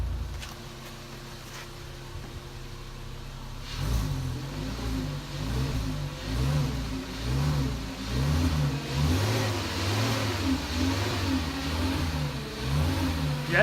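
A car engine fitted with a new muffler idles quietly, then revs repeatedly in deep, rising and falling surges that grow louder and more insistent toward the end.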